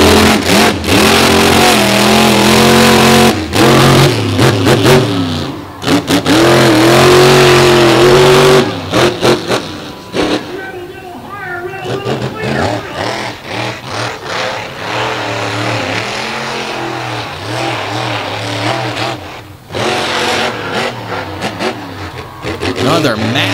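A monster truck engine roars and revs hard on a beach course, with loud surging bursts, drops and repeated throttle swells, while an announcer talks over the noise through much of the run.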